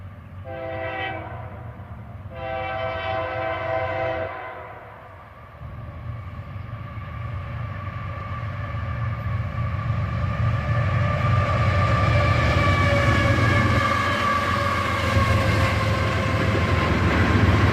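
A freight train led by a Norfolk Southern locomotive followed by a CSX ES40DC sounds two long horn blasts, then its heavy diesel engines and rolling cars build into a loud, steady roar as it passes close by.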